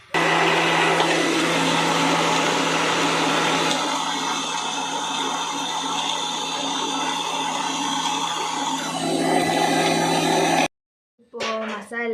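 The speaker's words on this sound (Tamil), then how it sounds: "இப்போ மிக்ஸி அரைக்கணும் ஃப்ரெண்ட்ஸ்" A kitchen mixer grinder whirs loudly and continuously for about ten seconds grinding masala, then cuts off abruptly, leaving a brief silence and a short voice.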